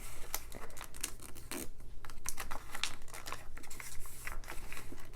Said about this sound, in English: and just continue to crease all the way along